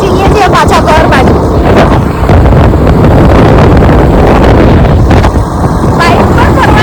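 Wind buffets the microphone while riding a motorbike on the way back home, a loud, steady roar of rushing air that barely lets up.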